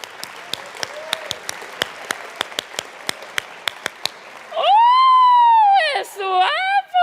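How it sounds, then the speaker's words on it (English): Audience at a comedy stage show clapping a flamenco rhythm, about twenty sharp, evenly spaced claps over four seconds, then a loud rising-and-falling whooping voice and excited cries take over. "Flamenco clap."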